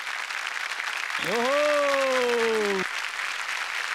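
A studio audience at a Marathi comedy TV show stage gives loud, sustained applause, with a voice exclaiming over the clapping partway through.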